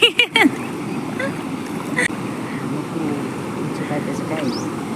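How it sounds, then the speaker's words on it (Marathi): Feet wade and splash through knee-deep flood water on a village path toward a check dam after sudden heavy rain, with continuous sloshing and rushing water close by and a few brief vocal sounds near the start. "मी चाललोय मस्त पाण्यामध्ये बघा"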